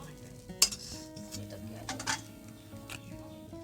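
Ripe tomatoes cook in a pan on a home kitchen stove, giving a soft sizzle beneath scraping, stirring and clinking of utensils against cookware, close by with a sharp clank near the start.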